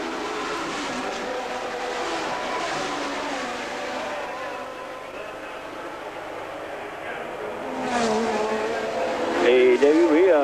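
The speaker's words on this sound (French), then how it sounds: "Et voilà Reutemann qui aurait bien voulu passer Mansell à la sortie du virage de la gare." Formula 1 race cars at the 1981 Monaco Grand Prix drone steadily in the distance, engines rising near the end, under continuous commentary.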